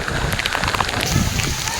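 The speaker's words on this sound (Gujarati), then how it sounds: "તો આ રીતનો અત્યારે દામનગરમાં વરસાદ છે ને વરસી રહ્યો છે" Heavy rain pours down in Damnagar, a steady, loud, dense wash of falling water with wind buffeting close to the microphone throughout.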